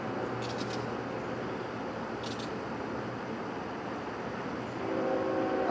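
A CN freight train with an M302 locomotive rumbles steadily through Kimball Township, Michigan, a continuous low roar with brief high squeals, swelling slightly louder near the end as it approaches.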